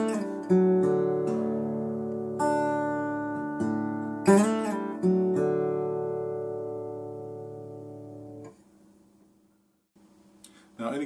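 Acoustic guitar playing a timekeeping riff, plucked notes and ringing chords struck in a slow repeating pattern, each left to decay, with a short pause near the end before a final strum.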